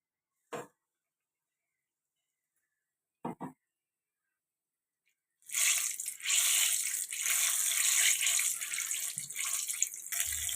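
Battered brinjal bajji, Guntur style, dropped into hot oil in a kadai, give off a loud, steady sizzle and crackle that starts abruptly after two brief soft knocks and silence, then holds for several seconds without talk.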